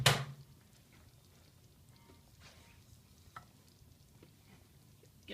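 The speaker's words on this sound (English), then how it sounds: "Give this a little stir" A spoon stirs risotto inside a Nutrichef 8-in-1 pressure cooker, giving faint soft scrapes and light clicks against the pot after an initial louder knock, in a quiet room.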